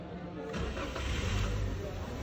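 A Toyota Grand Avanza / Daihatsu Great New Xenia engine is cranked by the starter and catches, settling into a steady low idle heard close up.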